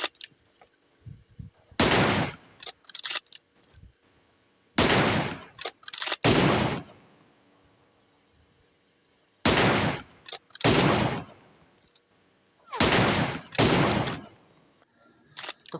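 Gunfire from an M24 sniper rifle and other guns in the mobile game BGMI comes in four loud, close clusters of sharp shots and bursts, separated by quiet gaps.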